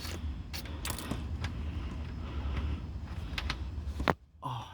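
A ratchet works a bolt loose on a 2009–2014 Acura TSX manual transmission, with a few sharp creaking clicks over a low rumble, close by and without speech.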